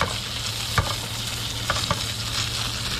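A trout fillet, nice side down, sizzles steadily in hot oil while cooking outdoors on a river, a close, continuous hiss broken by a few soft pops and taps.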